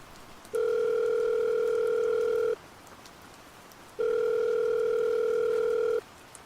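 Two long electronic phone call ringing tones sound, each about two seconds, separated by a pause, over a soft hissing background.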